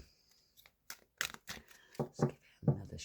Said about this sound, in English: Let's give it another shuffle